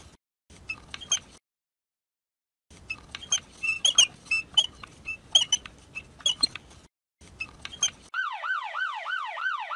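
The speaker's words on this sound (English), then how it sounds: "The ambulance is here." An ambulance siren wails in a kids' Pocoyo community helper app game, a rising and falling electronic tone entering at the end after bursts of bright, cartoonish game sound effects separated by silent gaps.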